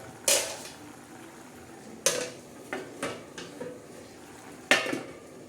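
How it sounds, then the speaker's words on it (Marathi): A metal lid is set back onto a cooking pot of drumstick pods simmering in moong dal, giving several sharp clanks and clinks spread over a few seconds, close and fairly loud against a quiet background. "चला आता परत झाकण आपण ठेवणार आहोत."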